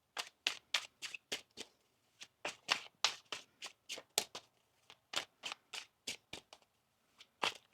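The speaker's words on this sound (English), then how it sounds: "One more shuffle here." A deck of tarot cards is shuffled by hand in a quiet room, giving a quick run of crisp riffling bursts that come in irregular clusters for several seconds, close and clear, with no talking.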